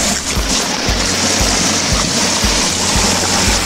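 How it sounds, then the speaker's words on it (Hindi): Water from a mill canal rushing down toward the turbine of a traditional Himalayan water mill, a steady loud churning roar with low thumping pulses, close by with no talk. "देखिए यहाँ से कैनाल से पानी आ रहा है"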